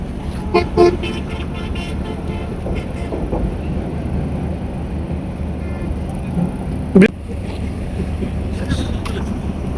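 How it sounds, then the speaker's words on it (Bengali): A car reverses into a parking space, its engine giving a steady low rumble against constant background noise, with a few brief sharp bursts early on and near the seventh second. "আমাদের সাথে তারেক আছে সে আন্তর্জাতিক মানের রিভার্স পার্কিং করছে আমরা দেখি যাও"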